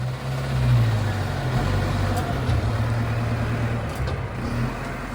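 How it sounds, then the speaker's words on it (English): Tractor engine labouring while stuck on a gravel ridge, a low steady rumbling drone with slight swells as it strains, fairly close and continuous throughout. "the tractor got stuck on a gravel ridge. Pa is trying to drive it out, but it's just getting stuck deeper into the gravel."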